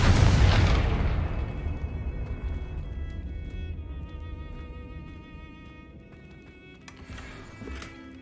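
A Confringo spell explosion in the video game Hogwarts Legacy bursts with a loud, broadband boom, then rumbles and fades over several seconds as faint tonal effects shimmer. A brief crackle near the end.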